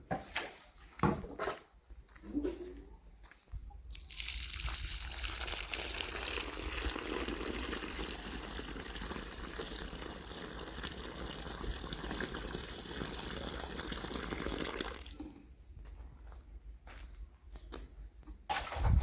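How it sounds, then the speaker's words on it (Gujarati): Water pours steadily from a can onto trees on a farm for about ten seconds, splashing onto the ground, with a few knocks and handling sounds before and after. "ડબલું હાથમાં લીધું તો બારોબાર આ બધે ઝાડવાનું ફટાફટ પાણી પાઈ નાખી"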